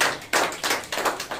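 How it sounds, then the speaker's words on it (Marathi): Farmers at a gathering clap together in firm, rhythmic bursts, close and loud, each burst a quick run of overlapping hand claps. "त्यांच्यासाठी टाळ्या वाजूया।"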